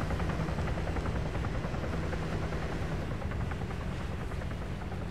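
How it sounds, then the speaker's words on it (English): Helicopters lifting off in a multiplayer military video game, a continuous dense rotor roar with rapid chopping pulses, steady and loud with no talk. "Helicopters are taking off."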